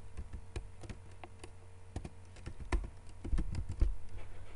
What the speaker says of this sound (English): in the search bar, you type Smart Gesture